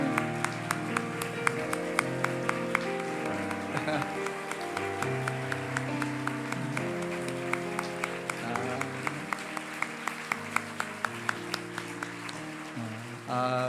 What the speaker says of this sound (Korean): 뜨겁게 박수로 격려해 주시고 축하해 주십시오.